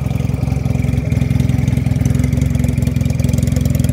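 A Benelli PE 250cc motorcycle engine with its exhaust split into left and right pipes idles close by, a steady, loud, throbbing rumble with a fast, even pulse throughout.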